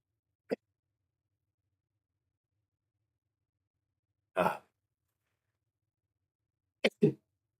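Short bursts of breathy sound in near silence: a brief puff, then a sneeze a few seconds later, followed by a quick double burst.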